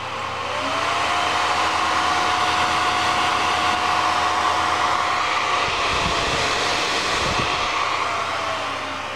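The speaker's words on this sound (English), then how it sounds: "I'm just going to manually crank the fan up here so you can see how loud it gets." The single fan of a GPU graphics card cranked to full speed: a loud, steady airy whoosh with a faint high whine drifting in pitch, running continuously with no talk.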